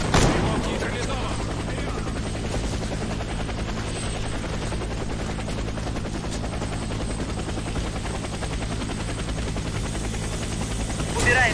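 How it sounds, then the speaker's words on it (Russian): Helicopter in the shooter video game Warface, a continuous loud rotor thrum and engine drone running throughout, with scattered gunfire bursts and game voices talking over it. "Садитесь в вертолет."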